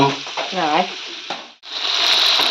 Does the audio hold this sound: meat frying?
yes